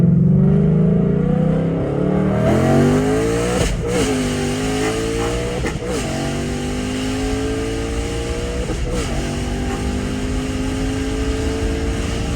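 A Ford Mustang Dark Horse with a manual gearbox revs hard and pulls up through its gears from first to fourth, the engine note climbing loudly, dipping at each shift, then rising again.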